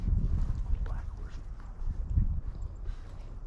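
A black horse, a colt being broken on a trail, sets down hooves in soft, dull low thuds close by, with wind and quiet voices around it.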